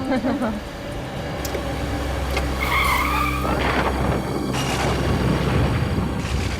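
A car skids to a sudden stop on a forest road, a long continuous screech and rumble lasting several seconds over a steady engine drone.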